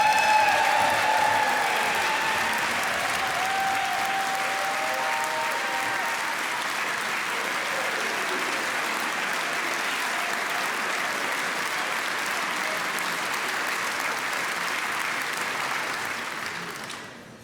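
A large audience at the 2017 Wisconsin State of the State address claps in a dense, sustained wave of applause that holds steady for a long stretch, then fades away at the end.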